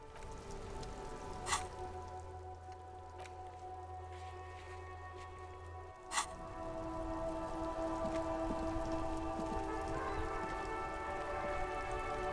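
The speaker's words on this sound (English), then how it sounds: "It's raining again." Steady rain falls in the video game Disco Elysium, a soft continuous patter with a faint low hum early on and a couple of sharp clicks, quiet and without voices.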